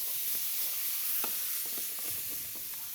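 Chicken broth sizzles in a pan while it is stirred, a steady bright hiss under faint scraping stirs, quiet and close.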